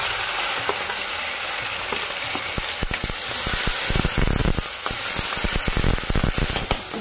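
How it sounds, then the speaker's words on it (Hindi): Hot oil sizzles loudly and steadily, with quick crackling pops and spits scattered throughout as garlic and dried red chili fry in a pan close by. "इधर हम तेल में डालेंगे लहसुन"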